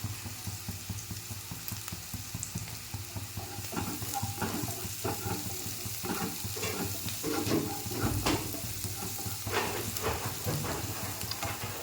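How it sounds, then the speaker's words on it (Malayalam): Sliced onions and green chillies sizzle in a hot pan, with a continuous frying hiss broken by close, irregular scrapes and clicks of stirring, and no talk. "സവാളയും പച്ചമുളകും നല്ലോണം വഴറ്റിയിട്ട് സവാള നല്ലോണം വാടിക്കഴിഞ്ഞിട്ട് നമുക്ക് കൂണിട്ടാൽ മതി"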